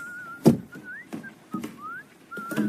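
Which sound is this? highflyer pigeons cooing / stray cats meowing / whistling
whistling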